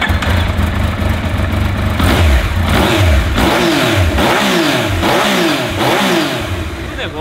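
A Yamaha MT-09 motorcycle engine revs hard several times in quick succession, each rev rising and falling sharply, loud and close.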